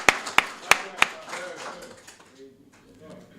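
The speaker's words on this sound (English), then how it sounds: "Let's give our assistant ministers a round of applause" At a religious lecture, four sharp claps ring out in quick succession for the assistant ministers, then give way to a softer, fading murmur of scattered claps and voices.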